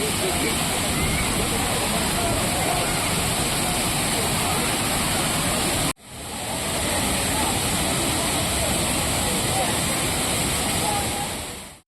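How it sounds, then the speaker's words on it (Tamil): The Thirparappu waterfall in flood roars in a loud, dense, continuous rush of crashing water, steady and close throughout with no voices over it. "அருவியில் வெள்ளம் ஆர்ப்பரித்து கொட்டுவதால்"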